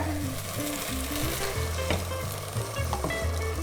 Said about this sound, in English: we put a little bit of this sauce from the vongole inside